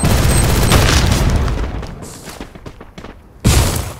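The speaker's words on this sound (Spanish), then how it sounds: "Ya empiezan a lanzar granadas acá." Grenade blasts in a squad-based shooter video game: a loud booming explosion opens, rumbles and fades, then a second heavy blast hits near the end, with no talk over it.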